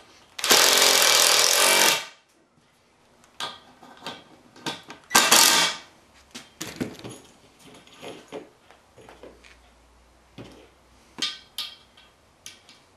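Reshaped metal brackets go onto an aluminum mast pipe with a loud, close, rapid rattling burst of about a second and a half, then a shorter burst, followed by scattered light clanks and knocks.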